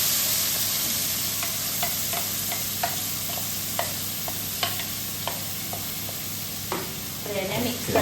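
Spinach puree for palak paneer hits a hot pan and sizzles steadily while a spoon stirs it, with scattered soft scraping taps and a brief voice near the end.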